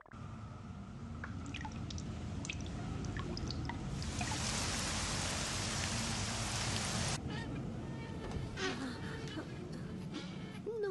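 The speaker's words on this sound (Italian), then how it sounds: "Il vento e la pioggia." Wind and rain in a Doraemon cartoon: a steady wash of falling rain with drips, rising into a louder gust-driven downpour midway before easing back to a dense patter.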